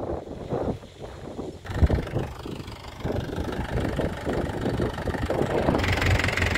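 A Mahindra Yuvo tractor with a modified canopy and a lift harrow runs nearby, its engine holding a steady, continuous idle-like drone that grows slightly louder and fuller partway through.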